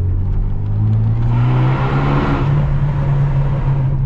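Renault R25 F1 Team limited-edition car engine idling and revving up, a loud, close, steady low rumble with a brief rise in pitch midway, no talking over it.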